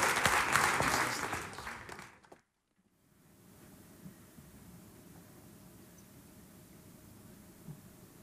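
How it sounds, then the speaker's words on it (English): A theater audience applauding in a concert hall, dense close clapping for about two seconds that stops abruptly, followed by quiet room hush. "Please give her a round of applause."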